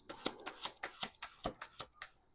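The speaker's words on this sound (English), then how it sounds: "we're doing an extra shuffle just in case" A deck of cards being shuffled produces a run of about ten crisp riffling bursts in quick, uneven rhythm, close and soft, with no voices.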